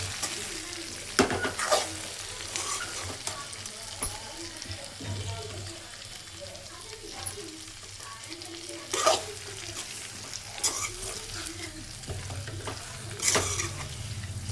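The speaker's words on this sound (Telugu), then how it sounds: "ఈ విధంగా అయితే బీరకాయలన్నీ వేసేసామండి. కొంచెం అలా అలా కలుపుకోవాలి." Ridge gourd pieces stirred in a frying pan, with a steady soft sizzle and scraping stirs recurring through the clip, a few sharper utensil knocks standing out, and no talking.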